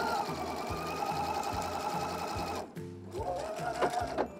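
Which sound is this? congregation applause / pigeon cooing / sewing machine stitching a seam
sewing machine stitching a seam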